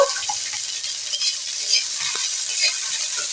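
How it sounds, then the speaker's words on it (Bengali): Onions and green chilies fry in mustard oil, a dense, steady sizzle close by with light stirring scrapes, no voices over it. "সরিষার তেল হয়ে গেছে পেঁয়াজ কাঁচা লঙ্কা এগুলোকে আমি দিয়ে দেব এখন পেঁয়াজটা একটু ভেজে নেব"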